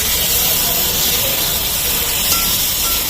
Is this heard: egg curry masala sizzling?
yes